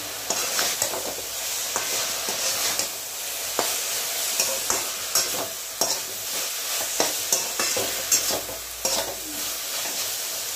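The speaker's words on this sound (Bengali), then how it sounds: "চিনি আর সরষের তেল ভাজা হয়ে গেছে, এবার শাকটা মিশিয়ে দিলাম।" Leafy greens are stir-fried in mustard oil with sugar, a constant sizzle broken by repeated scraping strokes of a spatula against the pan, with no talk.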